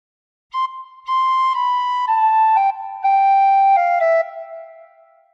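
A recorder plays a phrase of Joy to the World, a string of about eight clear blown notes stepping downward in pitch with short gaps between them, close and unaccompanied.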